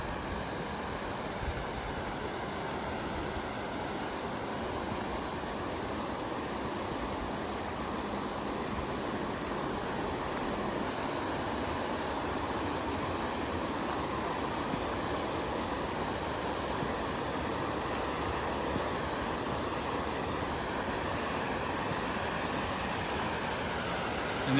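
The South Santiam River rushes steadily below a campground overlook, a broad, even roar of flowing water that holds at a constant loudness with no talking.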